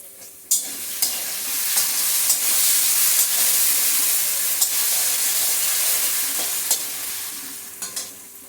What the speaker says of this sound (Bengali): আলু একদম লাল লাল করে ভেজে নিয়েছি।